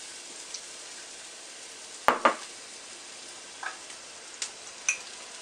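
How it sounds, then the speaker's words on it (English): Onions and parsley drop into a pan of garlic and olive oil, giving a steady faint sizzle with a few sharp clatters and taps from utensils against the pan. "Now I'm going to go add the onions and the parsley."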